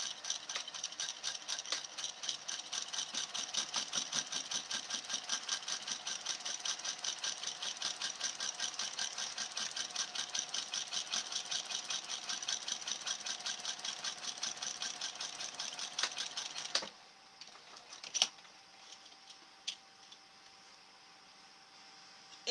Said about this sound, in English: just sew at a 1/4 inch seam allowance right across that